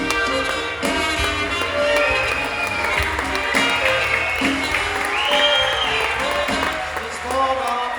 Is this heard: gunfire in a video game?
no